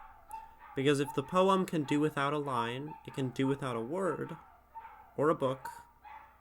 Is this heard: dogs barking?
yes